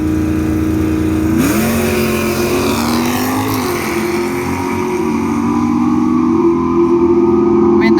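An old-style drag racing car at a Mopar jet car shoot-out drones loudly with a strong engine tone that swells and bends early on, then settles into a constant close roar.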